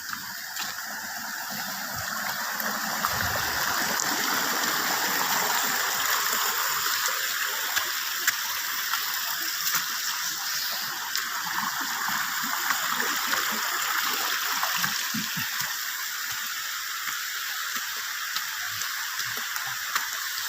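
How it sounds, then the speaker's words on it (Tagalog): A river flows steadily along a hiking trail toward Binurong Point, with broadband rushing water that holds constant and fairly loud for about twenty seconds. Faint clicking is mixed into the rush, and there is no talk. "Sarap pakinggan ang ilog."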